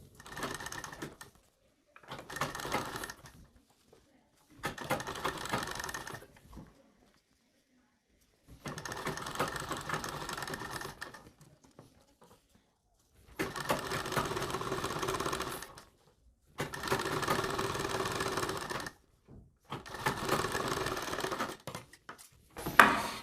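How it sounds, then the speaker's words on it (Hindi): A sewing machine stitches piping onto a blouse's back neck in short bursts of rapid whirring, each run lasting a second or two with quiet pauses between, close and fairly soft. "पूरे बुकरम में आपको यहाँ पर सिलाई लगानी है"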